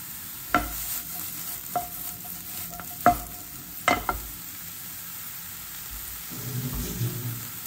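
Halved garlic clove and eggplant frying in oil in a pan, a soft steady sizzle with several sharp utensil clinks and scrapes, no talking.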